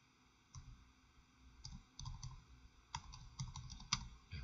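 Computer keyboard typing and mouse clicks at a desk, scattered sharp taps in small clusters over a low steady hum, close and quiet with no talk.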